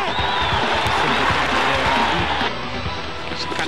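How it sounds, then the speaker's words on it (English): Cricket crowd cheering and applauding after the fifth wicket falls, a dense, continuous roar of clapping and shouting from a large stadium, easing slightly toward the end. "the celebrations begin in the crowd"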